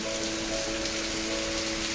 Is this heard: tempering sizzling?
no